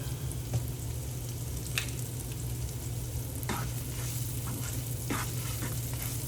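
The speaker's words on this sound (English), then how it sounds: "I'm going to let that saute up a bit." Seasoned onions and meat sauté in a pan for breakfast, a steady soft sizzle running throughout with occasional stirring scrapes and clinks, close up and alone.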